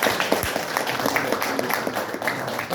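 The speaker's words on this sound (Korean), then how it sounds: "우렁찬 박수로 다시 한번 박수 쳐주시기 바랍니다" Steady applause from a sizable crowd at a political party launch meeting, dense and continuous clapping throughout with no talking.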